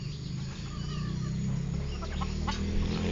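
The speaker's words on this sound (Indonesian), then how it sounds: "Nah, ini ayam biasa guys ya." An ordinary chicken clucking in a farmyard, a few short close clucks toward the end over a steady low background hum.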